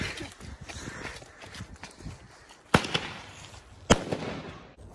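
Outdoor December firecrackers and fireworks, two sharp loud bangs standing out over a steady crackling, popping background, with faint distant pops scattered throughout.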